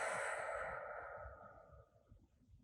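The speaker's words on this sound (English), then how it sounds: "Deep inhale. And exhale." A deep, soft exhale during a guided breathing exercise is heard as a breathy sigh that fades out gradually over about two seconds.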